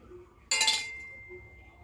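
A metal plate set down on a kadai gives a single sharp clink up close, followed by a brief fading ring in an otherwise quiet kitchen.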